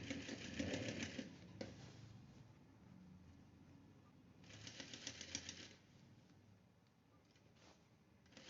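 Sewing machine top stitching the waist of men's pants during an alteration, running in two steady rapid bursts of needle chatter, close and moderate, with quieter pauses between.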